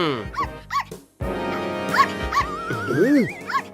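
Cartoon dogs in a Motu Patlu episode bark and whine in a quick series of yelps, joined by a wavering whistle-like tone.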